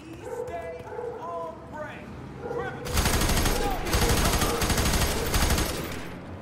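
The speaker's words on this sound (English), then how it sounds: "The hell was that shooting?" Gunfire in F.E.A.R. 3 erupts as loud, rapid bursts of automatic shooting that take over after a stretch of talk and other sounds. The barrage keeps going to the end of the clip.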